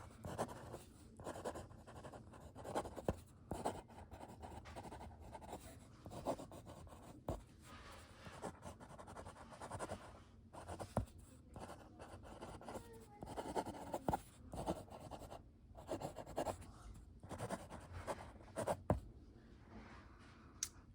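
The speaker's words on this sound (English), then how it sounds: "It makes it look a little bit more interesting when you're writing." A vintage Parker 21 fountain pen scratches and rubs steadily across paper, close and quiet, with short bursty strokes and brief pauses between them.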